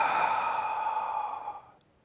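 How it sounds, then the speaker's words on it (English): A single long, deep exhalation during a yogic breathing exercise, a steady airy breath out held for about a second and a half before fading away, close and fairly quiet. "push your stomach in and breathe out"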